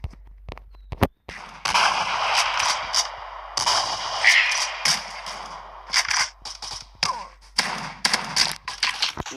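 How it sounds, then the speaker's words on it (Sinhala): Gunfire in the video game Kuboom: a rapid series of sharp shots and thuds with bursts of firing and short gaps, loud and busy over game background noise. "කවුරු හරි මට වෙඩි කිව්වා."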